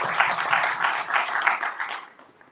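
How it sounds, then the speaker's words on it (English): Audience applause in a hall at a live moot court on disability rights, a steady burst of clapping from many hands that holds for about two seconds before fading out. "By an applause, thank you."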